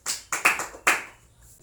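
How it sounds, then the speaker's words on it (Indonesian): Children in a primary school class clap their hands in a short burst of several loud claps, then the sound fades to quiet. "Tepuk tangan dulu dong untuk kita yang sudah menjawab pertanyaan."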